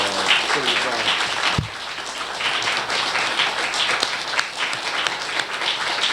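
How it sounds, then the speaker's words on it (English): A crowd at a 1995 tribute event in Providence honoring Little Richard claps and applauds steadily throughout, a dense wash of hands with voices mixed in and one sharp knock near the start. "Let's give him a big hand, and we welcome Little Richard to the crowd."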